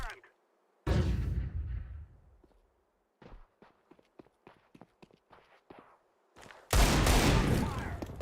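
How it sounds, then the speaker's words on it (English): A flashbang grenade thrown in Counter-Strike 2 gives a sharp burst near the start, then a string of small clicks and footstep-like taps, ending in a loud, sustained blast. "Throwing a flashbang."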